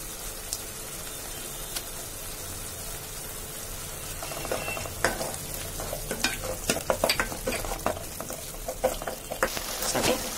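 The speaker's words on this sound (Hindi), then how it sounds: "अब हम इसमें अदरक लहसुन का पेस्ट ऐड करेंगे।" Ginger garlic paste frying in hot oil for a crab masala curry, stirred in the pan: a steady low sizzle under scraping spoon strokes that grow busier and louder in the second half, with no talking.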